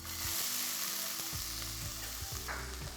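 Chopped onion fries in oil in a pot over medium heat, a steady crackling sizzle with a few soft knocks of stirring mixed in.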